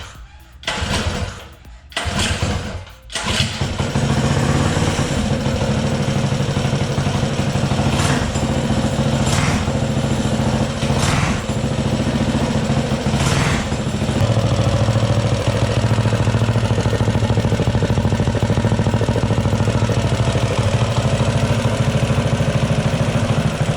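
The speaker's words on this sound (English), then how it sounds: "let's see if she'll fire up" Predator 212 engine on an Azusa mini bike, just repaired after a broken valve, cranks with a few short pulls, then fires and settles into a steady, loud, continuous running drone close by.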